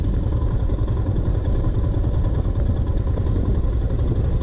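A Royal Enfield Himalayan off-road motorcycle engine thrums as a loud, continuous low rumble with a rapid, even pulsing beat, close up and with no voices.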